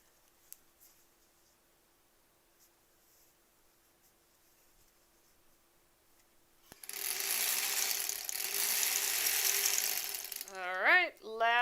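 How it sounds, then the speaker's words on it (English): After several seconds of near silence, a home sewing machine stitches a granny-square quilt with a loud, dense mechanical whir and clatter lasting a few seconds, then a voice speaks over it. "It's just clicking a little bit more on top when I sew"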